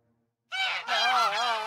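Geese in a goose stable honk loudly, their cackles overlapping in a dense, continuous burst that starts abruptly after a short silence.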